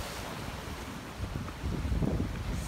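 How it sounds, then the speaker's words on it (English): Wind of about 20 miles an hour roars over churning Hawaiian ocean surf with waves about 8 feet high, the low rumble building louder toward the end as waves roll in. "Waves are about 8 feet."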